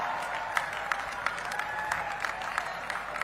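An audience claps steadily in welcome for a chief minister at a state employment day event in Neemuch, Madhya Pradesh, heard somewhat distant and moderately quiet.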